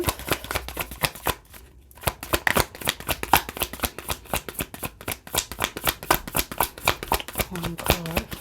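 Tarot cards being shuffled and dealt, with a rapid run of close, crisp card flicks and slaps that keeps going under steady speech from a woman.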